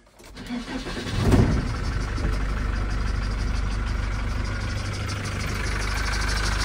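A Volkswagen T3 van engine cranks and catches, then settles into a steady low idle that keeps running, close by, through a non-original exhaust.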